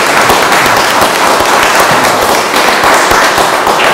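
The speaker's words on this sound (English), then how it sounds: "I think a round of applause" A crowd at a university art and poetry event breaks into loud, sustained applause, a dense wall of clapping that holds steady from start to finish with no talk on top.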